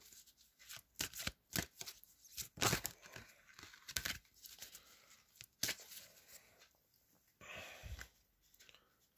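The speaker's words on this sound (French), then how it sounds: "je vais mélanger un peu le jeu" A deck of oracle cards being shuffled by hand, close and quiet, with irregular riffling flutters, soft slaps and papery crinkles coming in bursts with brief pauses between them.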